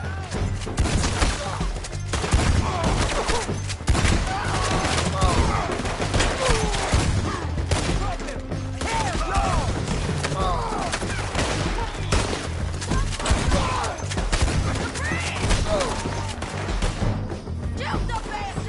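Continuous heavy gunfire in the video game Red Dead Redemption 2, dense overlapping shots and rapid volleys for the whole stretch, loud and close, with occasional crashes and thuds mixed in.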